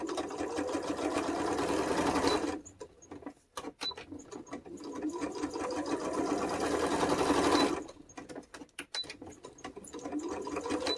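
A sewing machine stitches fabric nature tags in close, rapid bursts of rhythmic needle chatter, pausing twice briefly before resuming, with no voices over it.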